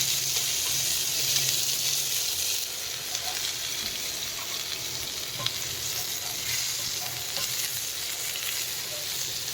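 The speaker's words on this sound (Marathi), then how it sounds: "त्याच्यामुळं आपल्याला हे भाजून घ्यायचं आहे तेलावर" Food sizzles and fries in oil in a pan over a wood-fired chulha stove while an evening meal is cooked, a steady close crackling hiss running throughout with occasional small pops.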